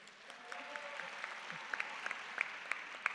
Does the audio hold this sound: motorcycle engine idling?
no